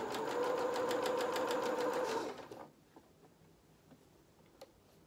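A sewing machine stitches a fur jacket with rapid, even mechanical ticking for about two seconds, then stops, leaving faint clicks and quiet handling.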